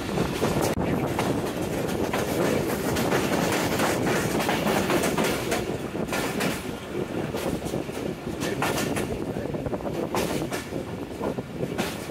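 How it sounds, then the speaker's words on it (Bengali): A train leaving Tongi Junction station rolls steadily nearby, wheels clattering over rail joints with a continuous rumbling roar and some wind buffeting. "দুপুর 12টা 2 মিনিটে ট্রেন ছেড়ে গেল টঙ্গী জংশন স্টেশনে"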